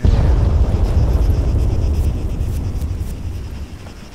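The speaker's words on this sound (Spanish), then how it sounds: "Aquí se escuchan los helicópteros" Helicopters in the video game Arma 3 produce a heavy, low rotor rumble that is loud at first and slowly fades.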